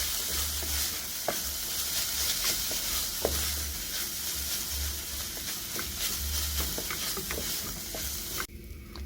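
Cumin seeds being stirred into a meat mixture in a pan over low heat, with a steady sizzle and soft repeated scraping strokes throughout, no talking.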